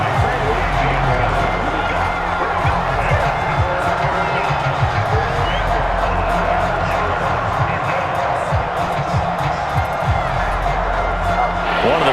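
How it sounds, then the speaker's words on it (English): Stadium crowd cheering in the video game Madden NFL 22 during a Cowboys vs Eagles matchup, a steady dense roar building ahead of a big third down, with a commentator's voice running over it. "The crowd getting into it as we come up on a big 3rd down."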